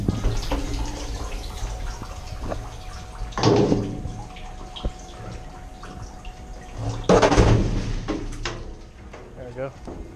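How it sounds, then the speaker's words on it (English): Water sloshing and dripping off a soaked item pulled up out of a dumpster, with a couple of louder splashy bursts amid steady trickling, while a person talks nearby. "As you can hear, all the water."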